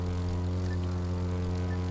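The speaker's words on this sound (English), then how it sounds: "So yeah, cool little plane." A small propeller plane flies in the racing game The Crew 2, a steady droning engine hum with a strong low buzz, constant and close throughout, heard alone.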